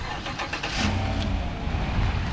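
A 2016 Chevy Silverado pickup engine running after a remote start, a steady close low rumble with a slight rise in revs, no voices.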